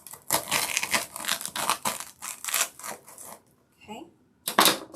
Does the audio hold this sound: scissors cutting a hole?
yes